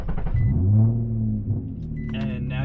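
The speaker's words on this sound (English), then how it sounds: "Turn the car on." An Infiniti G35 Coupe with a manual transmission fires up, its engine catching with a brief starter churn and then settling into a loud, low idle rumble close by, with faint clicks afterward.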